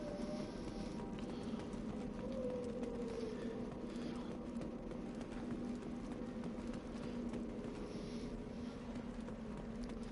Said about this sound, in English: There ain't no sound or music other than the frickin' wind and the sound of my footsteps.